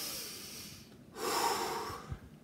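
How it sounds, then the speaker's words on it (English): A deep breath drawn in slowly, a long airy rush up close, followed by a short sniff at the end, with no speech. "Take a deep breath with me."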